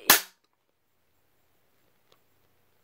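A single sharp pop from a fake toy gun with an orange tip fires indoors, loud and brief at the start, followed by near silence and one tiny click.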